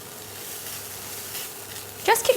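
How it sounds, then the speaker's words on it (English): Rice being stir-fried with Teochew black olive paste makes a soft, continuous sizzle and stirring rustle close by, ending with a brief louder clatter. "Just keep stirring to make sure that the rice is evenly coated with the Teochew olive paste."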